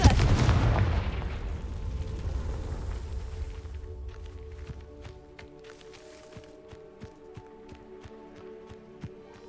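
Confringo explosive spell cast in Hogwarts Legacy, opening with a loud booming blast that decays into a long rumble, followed by sparse sharp clicks and taps, without speech.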